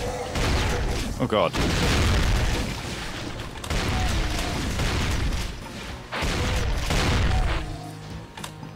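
Grenade explosions and gunfire in Brutal Doom v20 on Doom II, a loud dense barrage of booms and bursts running almost continuously, with a player's voice briefly exclaiming over the chaos.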